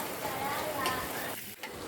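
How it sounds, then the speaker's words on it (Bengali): Chopped onions fry in a frying pan with a close, even sizzle and stirring scrapes, and a short break near the end. "এবার ফ্রাই প্যানে পেঁয়াজগুলো দিয়ে দিলাম,"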